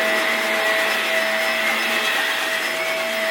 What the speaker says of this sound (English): vacuuming the living room